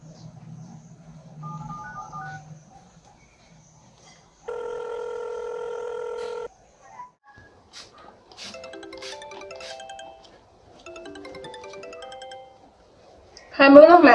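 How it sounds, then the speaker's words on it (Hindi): A phone call is placed: a short run of dialing tones, then a steady electronic ringback tone lasting about two seconds, followed by quieter melodic beeps, with a brief voice at the start and a louder burst at the very end. "फोन लगा के देखती हूँ"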